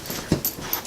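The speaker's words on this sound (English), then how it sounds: "I'm sorry, there's a puppy." A puppy gives a brief, faint whimper, a couple of soft high whines close by in a quiet room.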